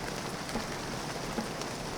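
Steady rain recording blended into a modular synthesizer patch, a dense even hiss of falling drops throughout with no voices.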